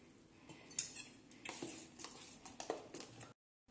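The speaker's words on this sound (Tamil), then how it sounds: "இப்போ இதெல்லாத்தையும் ஒரு டைம் கலந்து விட்டுட்டு நல்ல மாவு கன்சிஸ்டன்சி நம்ம கொண்டு வந்துக்கணும்" A spoon stirs instant masala dosa batter in a bowl, giving faint, quiet clinks and soft scraping taps in an irregular rhythm before stopping abruptly.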